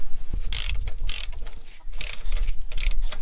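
A ratchet wrench loosens a cylinder head nut on a 1964 Corvair engine, with quick rhythmic ratcheting clicks in several close bursts over low rumbling.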